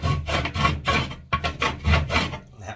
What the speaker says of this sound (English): Now this is cement that I'm rasping, not drywall, so it's definitely more difficult